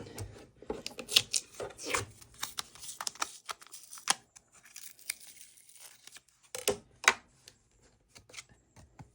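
Adhesive tape being torn and pulled off in quick, crackly bursts while a tarot deck is trimmed, a cluster of rips near the start and another sharp run near the end, with quieter handling in between.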